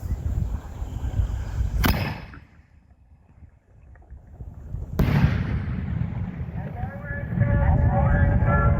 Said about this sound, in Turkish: topun yerini ses bombası alsa da kulaklara gelen seste değişen bir şey olmadı